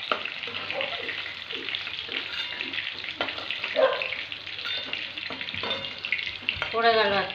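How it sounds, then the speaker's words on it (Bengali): Papaya pieces fry in hot oil with a steady, dense sizzle and crackle, close and fairly loud throughout, broken by occasional stirring clinks and a brief burst of bubbling near the end. "পেঁপেগুলো দিয়েও হালকা করে ভেজে নেবো আমি"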